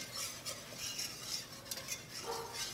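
Steady scraping of a utensil stirring flour into bacon drippings and butter in a pan for gravy, a soft continuous swishing with faint sizzle underneath, close and fairly quiet, no talking.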